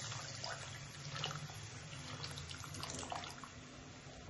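Tamarind water is poured into a pan of fish curry, a soft continuous trickling and splashing pour that stays faint and steady throughout.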